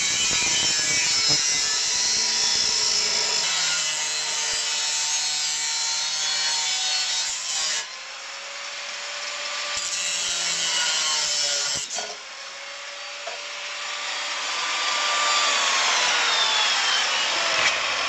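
A hand saw cuts through wood pieces for assembling furniture, with long continuous rasping strokes, close and loud, with brief pauses at about 8 and 12 seconds.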